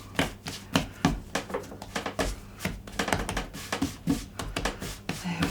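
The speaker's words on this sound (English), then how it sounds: "give it a little knead to bring it all together into a lovely ball" Hands knead sweet crust pastry dough into a ball, making a close, irregular run of soft slaps and taps with brief pauses and no talking.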